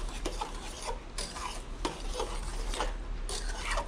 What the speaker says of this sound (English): Let me stir the lemon juice in.